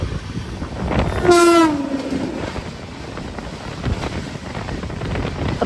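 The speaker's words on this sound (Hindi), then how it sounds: "रफ्तार ही इतनी है कि पता ही नहीं थी कि कौन सी ट्रेन क्रॉस है, लेकिन बहुत ज़्यादा स्पीड में थी।" A train rushes past at very high speed near a station, a loud continuous roar and rattle of wagons with a brief horn blast early on and wind buffeting the microphone, no voices.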